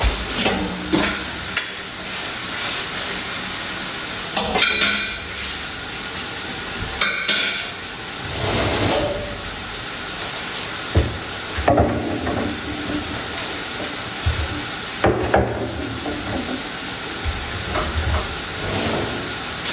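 Vegetables for ratatouille cooking in a pan, a continuous hissing sizzle with steam, broken by repeated stirring scrapes and clatters at irregular intervals, close and fairly loud with no talk.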